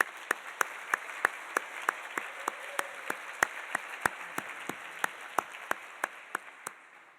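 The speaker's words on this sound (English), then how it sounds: "So let's give them a round of applause" Applause from a university audience for newly promoted and tenured faculty at a state-of-the-school address, a steady wash of clapping with sharp individual claps standing out in a regular rhythm, sustained for several seconds and fading slightly at the end.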